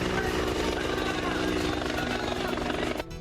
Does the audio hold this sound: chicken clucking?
no